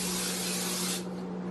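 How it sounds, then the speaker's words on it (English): Cooking spray mists onto an air fryer basket in one steady, close hiss lasting about a second, then cuts off, leaving a quiet background hum. "sprit the basket with your favorite cooking spray"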